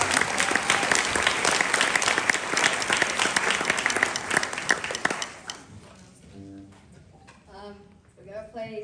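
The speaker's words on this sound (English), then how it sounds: "So big round of applause for Anna." Loud audience clapping at a high school violin concert fills the first five seconds, then fades quickly as a person starts talking.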